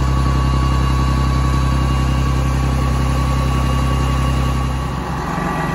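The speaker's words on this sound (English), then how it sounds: "But I do love the sound of this tractor." A tractor engine running steadily during a soybean harvest, a loud, close, even droning rumble with a constant hum that dips slightly near the end, with no talking.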